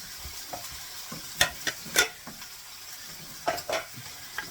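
Onions and finely shredded cabbage are stirred in a frying pan, with soft sizzling beneath a few sharp scraping strokes of a utensil against the pan, close and fairly quiet.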